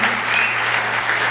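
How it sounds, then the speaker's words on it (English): Brief burst of audience applause for venue staff at a live blues show in a theater, dense clapping at steady loudness with a low steady hum beneath. "And a round of applause for your staff tonight."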